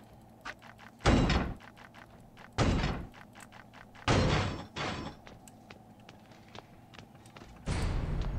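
Heavy wooden door being battered and smashed in the horror game Horrorfield, with several loud, separate thudding impacts spaced a second or two apart over quieter background game noise.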